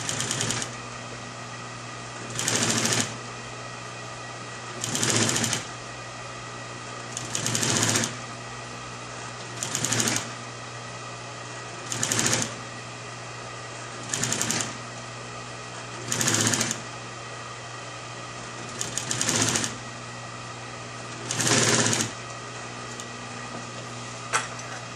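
Sewing machine stitching upholstery fabric for a wing chair, running in about ten short even bursts separated by pauses, with a steady motor hum throughout; quiet and close.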